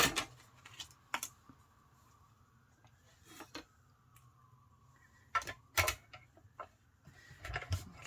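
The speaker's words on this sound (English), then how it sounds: "Got my mini die cutter here." A mini die cutter rolling cardstock through a die, with a faint whirring hum and scattered clicks and clacks of handling close by.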